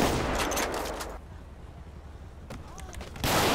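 Heavy gunfire from the GTA5 video game pours out in a dense burst during a bank robbery shootout, drops into a quieter lull, then erupts again loudly at the end.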